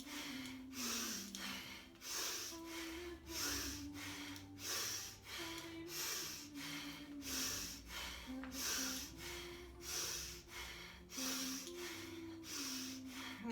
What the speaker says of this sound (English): Just keep the breath nice and deep,